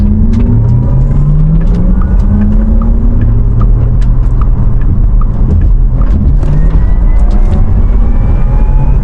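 Porsche Taycan electric car in Sport Plus mode accelerating on a road, its synthetic drive tone rising and falling in steady sweeping pitches over loud continuous tyre and road rumble, close and sustained throughout.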